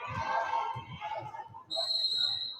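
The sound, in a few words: referee whistle at a basketball game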